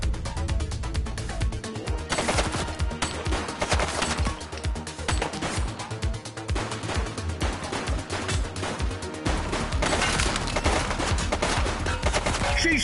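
Rapid gunfire in The Precinct video game, with bursts of repeated shots and automatic fire crackling sharply over about thirteen seconds, loud and close with brief uneven gaps.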